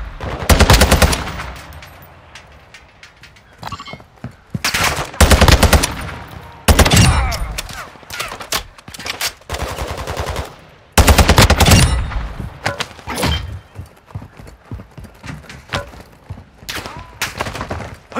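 Loud, close bursts of automatic gunfire in the Warzone 2.0 DMZ video game, long rattling volleys separated by brief pauses.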